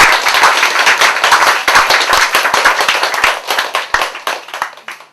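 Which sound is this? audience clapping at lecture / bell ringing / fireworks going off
audience clapping at lecture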